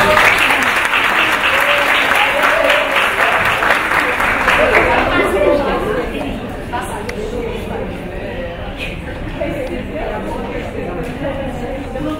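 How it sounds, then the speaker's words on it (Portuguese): Applause for a biology teacher at a school gathering, dense clapping that runs strongly for about five seconds and then thins into lighter, scattered claps mixed with murmuring voices. "palmas pra ela aqui."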